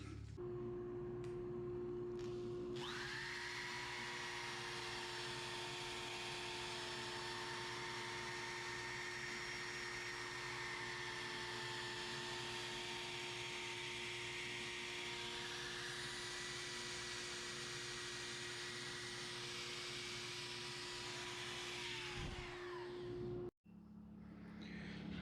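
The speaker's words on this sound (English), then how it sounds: "go back to the lathe and sand it off" A wood lathe spins a black walnut bowl with alabaster inlay being sanded, a steady whirring hum with a high hissing abrasive layer that holds for about twenty seconds before stopping abruptly.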